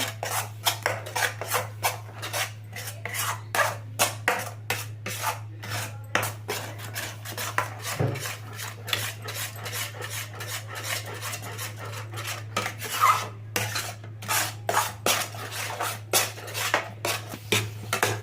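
A thickening milk sweet is stirred steadily in a pan over low heat, the utensil scraping the bottom in a fast, even rhythm of rasping strokes with a steady hum behind it and no talk.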